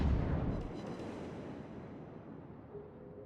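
An enemy warship firing armor-piercing shells in World of Warships produces a deep, rumbling boom that rolls off and fades slowly over several seconds, heard alone with no talking.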